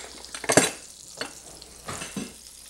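Butter sizzling in a frying pan, a soft hiss broken by a sharp clatter of the pan and a few quieter scrapes and knocks.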